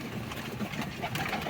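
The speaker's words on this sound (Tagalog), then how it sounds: "Yan mga kalapatids, inom talaga sila nyan." Pigeons coo softly and steadily at close range, their low murmuring running continuously beneath a faint wash of background noise.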